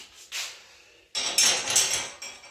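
Metal burner caps are lifted off a gas stove one after another, giving light clinks and scrapes of metal on metal at close range, with a short rattle early and a longer cluster of contacts toward the end.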